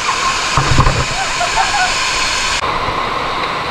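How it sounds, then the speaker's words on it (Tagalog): A waterfall in Zamboanga province, Philippines, roars steadily, a dense broadband wash of rushing water, with a brief voice and a splash-like thud early on. "Kusog na gyud ang tagak sa tubig kay tingulan naman gyud siya."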